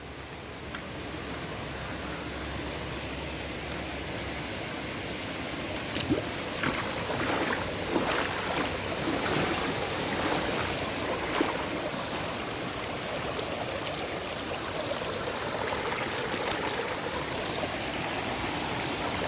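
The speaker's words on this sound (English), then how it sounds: "There's another one up here, a little spring." Spring water feeds a river in a steady, broadband rush of flowing water, with faint splashes rising midway, continuous and fairly close.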